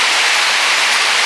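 Rain falls steadily during a long wet spell that has filled a backyard fish pond, a loud, dense hiss of drops with no distinct rhythm and no voices.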